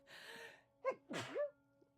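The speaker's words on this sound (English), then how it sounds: "I'm also trying to stifle a sneeze." A single sharp sneeze, close and moderately loud, preceded by a breathy intake and trailing off into a brief voiced exhale.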